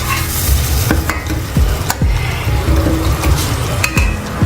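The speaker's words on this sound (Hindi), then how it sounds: "अब हम इसके अंदर जो है ये थोड़ा सा दही ऐड कर रहे हैं।" Pulao with peas and potatoes sizzles steadily in a pot while yogurt is stirred in, with repeated scraping strokes of a spoon against the metal every half second or so, close and fairly loud, with no speech.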